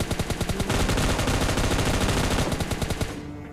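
Sustained automatic gunfire spray in PUBG Mobile Lite, a rapid, loud, continuous burst of shots lasting a few seconds before cutting off, with no talking.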